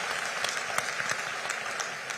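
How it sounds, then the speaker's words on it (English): Sustained applause from a large audience at the closing session of the Africa Regional Forum, dense steady clapping throughout with no talk over it. "Can I hear the clapping louder?"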